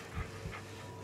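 Dog in the Blair Witch video game, a close, quiet burst of soft panting breaths with faint whimpering, two short puffs within about a second.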